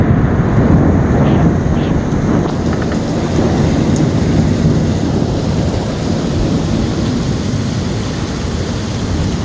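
A late-afternoon thunderstorm in Tampa roars steadily, with dense rain and gusting wind filling the scene and low rumbles of thunder mixed into the continuous wash, loud and close throughout.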